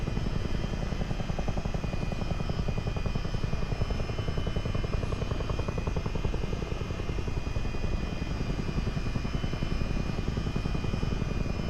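A simulated Chinook helicopter in MSFS 2024 flies out over the sea toward an Independence-class warship, its loud, steady, thudding rotor and engine drone running unbroken throughout with no talk.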